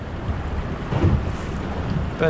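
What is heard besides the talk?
wind and waves around a small fishing boat at sea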